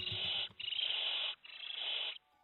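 Barn owl chick in the nest giving three long, harsh hissing screeches, each lasting most of a second with brief gaps between, loud and close with no other sound.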